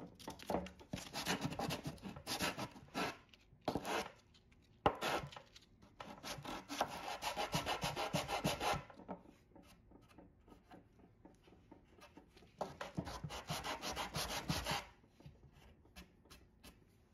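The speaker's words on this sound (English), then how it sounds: "smooth it with some sandpaper" Sandpaper rubs against a wooden hall table piece in quick back-and-forth strokes, faint and close, in two long bursts of scratchy rasping with a quieter stretch of light handling between them.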